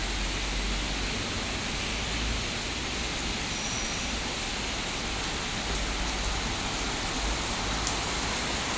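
Heavy rain pouring down steadily, a dense, loud, even hiss filling the whole scene with no letup.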